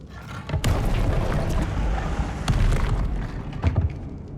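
Fiery blasting spell in Hogwarts Legacy, a continuous rumbling explosion with deep booming bursts and a few sharp pops, loud and close throughout, with no speech.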